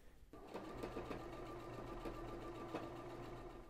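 A sewing machine stitches fabric for a stuffed dog toy in a fast, steady mechanical whir with a rapid needle rhythm, close up and fairly quiet.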